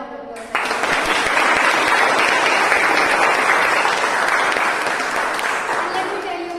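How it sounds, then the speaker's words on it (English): Audience applause at a Toastmasters meeting, a sudden burst of sustained clapping from a roomful of people, loud and even, fading slightly toward the end. "Any Toastmaster meeting deserves a better round of applause."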